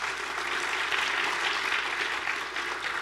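A university audience at a campus debate breaks into sustained applause, dense even clapping from a large crowd that holds steady throughout at a fairly distant, room-filling level.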